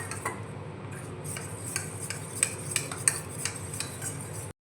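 A spoon stirring cornflour with a little water in a bowl makes quick, bright metallic clinks and taps against the bowl, rhythmic and close, without any speech.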